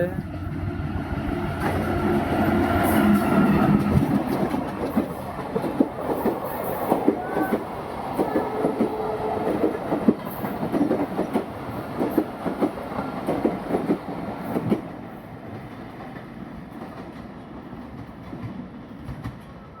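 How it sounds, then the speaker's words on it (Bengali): A train rumbles closer and passes through Mirpur railway station with loud, steady clattering of wheels on rails, then fades away; a voice speaks now and then over the noise. "এই যে ট্রেন আসছে, দেখানোর চেষ্টা করছি আপনাদের। ট্রেন চলে আসছে।"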